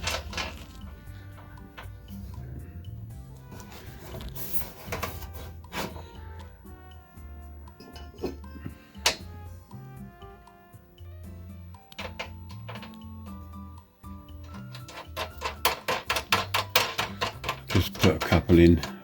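Metal bolts fitted through steel extension plates on an Evolution Fury5-S saw bench, heard as scattered clinks, rattles and taps with a quick run of clicks near the end, while someone talks over it.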